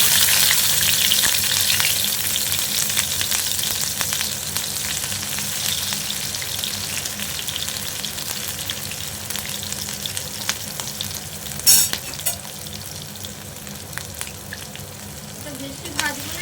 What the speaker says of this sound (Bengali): তেলটা গরম হয়ে গেছে, এবার আমি আদা কুচি আর লঙ্কা কুচি দিয়ে দিচ্ছি।